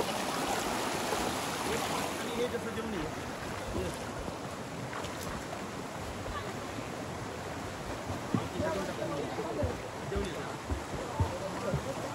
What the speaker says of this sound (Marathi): हा आमचा व्हाळ आहे, भरपूर पाणी आहे पावसाच्या कारणाने